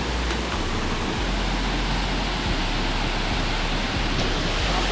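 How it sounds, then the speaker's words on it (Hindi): The Delari waterfall in Raigarh pouring steadily, a dense, continuous rushing roar that fills the whole stretch evenly with no talk. "बहुत ही अच्छा है वाटरफॉल"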